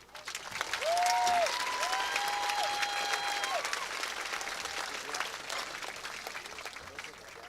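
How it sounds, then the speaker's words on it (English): An outdoor crowd at a high school graduation in Perry County, Pennsylvania applauds, clapping rising quickly then slowly thinning, with voices and a few cheers mixed in. "Can we just take a second and give a round of applause for this beautiful night here in Perry County,"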